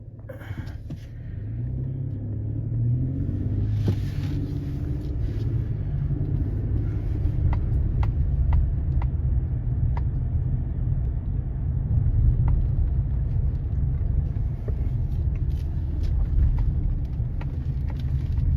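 A truck rolls along a rural road past old houses and trees, its low engine rumble and road noise steady and close from inside the cab, with occasional light clicks and rattles.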